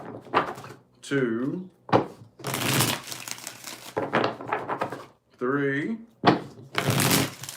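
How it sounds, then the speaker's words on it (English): Tarot cards are shuffled by hand in several crisp riffling bursts, close and loud, with a voice speaking briefly between the bursts. "Let's get 5 shuffles here."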